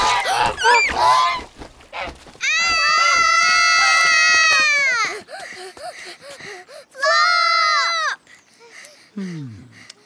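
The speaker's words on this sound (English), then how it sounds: "That's a goose." A cartoon goose in the children's show Bing honks in long, loud, drawn-out calls, two sustained honks separated by a pause, with brief voice sounds before them.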